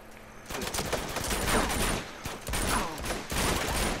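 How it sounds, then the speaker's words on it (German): Rapid machine gun fire in the video game Uncharted 2 Among Thieves, dense continuous bursts close and loud, broken by two short pauses. "Oh, und schon ein Maschinengewehr."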